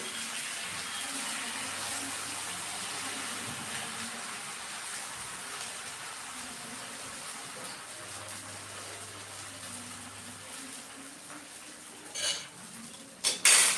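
Batter stirred and ladled out, soft clinks of a metal spoon against a bowl under a quiet, even kitchen hiss, with a few sharper knocks near the end.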